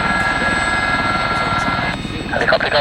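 A helicopter taxiing at Kemble Cotswold Airport gives a steady, loud broadband rotor and engine drone that runs throughout, with a radio voice heard over it near the end.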